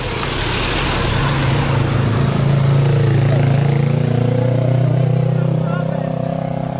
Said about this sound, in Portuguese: Agora vem o carro do outro lado, agora tem que parar ali.